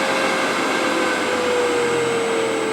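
A TW-90 belt grinder powered by a 2 horsepower 220-volt motor runs at full speed, a loud, steady, smooth whine with a constant high tone and no change throughout.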